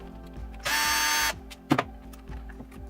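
A small screw goes back into a WLtoys 144001 RC car with a short, close electric screwdriver whir lasting under a second, followed by a couple of light clicks.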